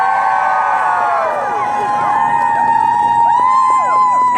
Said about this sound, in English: Let's give a warm round of applause to all of our volunteers